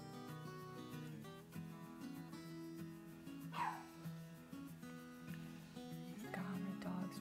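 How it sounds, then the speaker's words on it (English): A pet dog barks indoors at some distance, a few scattered yips and woofs rising over a droning low hum with tonal background sound, fairly faint overall. "God, my dog's driving me nuts. She's barking at nothing."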